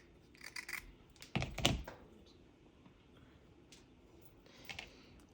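Scissors snipping craft hair for a Highland cow figure: a few sharp, close clicks clustered near the start, then faint scattered ticks in a quiet room.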